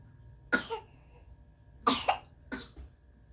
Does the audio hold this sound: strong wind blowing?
no